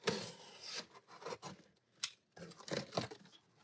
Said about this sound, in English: If I want to cut some cardboard